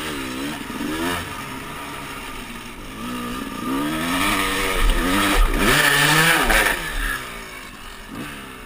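Dirt bike engines, a Suzuki RM250 two-stroke and a KTM 450 EXC four-stroke, revving while climbing a hill, with rising and falling pitch sweeps that swell louder midway, close and prominent, mixed with wind noise.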